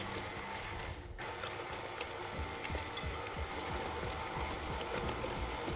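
A mixer combines chocolate and orange Christmas cake batter with nuts and cherries at slow speed, a steady mechanical whirr with rapid rhythmic ticking and clicking from the gears, close and continuous.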